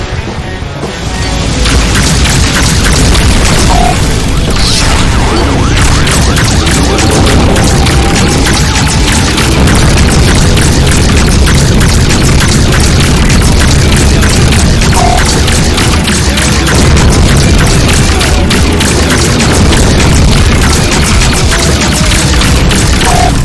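Heavy missile explosions in the space combat game Rebel Galaxy Outlaw, with loud booming blasts and crashes over a dense, continuous roar of ship and weapon noise that stays loud throughout.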